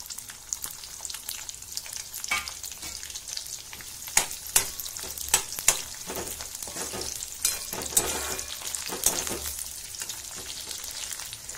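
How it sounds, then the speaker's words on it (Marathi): Onion stirs in hot oil left from frying okra, over medium heat, making a steady close crackling sizzle with scattered sharper clicks and scrapes from the spoon against the pan. "आता त्याच तेलामध्ये हा कांदा पण तसा परतून घ्यायचा थोडा."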